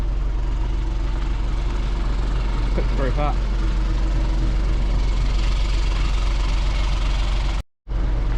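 A 1990 Mitsubishi Fuso 24-seater bus with a 7.5 litre diesel engine runs steadily at idle, a loud low rumble filling the clip, with someone talking briefly over it before a short cutout near the end.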